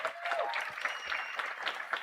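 Graduation audience in a high school ceremony applauds principal Anthony Rodriguez, a continuous wash of clapping with some crowd noise, fairly close and steady.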